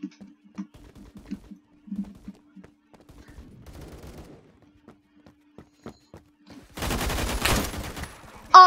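Rapid automatic gunfire in the Phantom Forces shooter rattles out in a dense, loud burst after quieter footsteps and light clicks, then stops abruptly.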